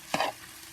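Sautéed onions being stirred back into a leftovers mixture, a short scraping burst of a few tenths of a second, close and fairly soft, then quiet.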